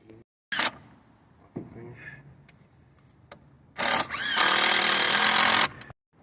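A battery-powered drill driver sinks screws into boards while rebuilding a wooden dock outdoors, with a brief early burst, a few knocks, then a long steady whirring drive of about two seconds near the end, close and loud.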